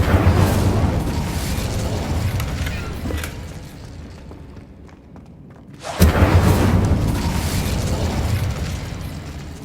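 An Incendio fire spell cast in Hogwarts Legacy on PS5 gives a loud, sustained fiery roar. It eases off briefly, then bursts back at full force and keeps blazing.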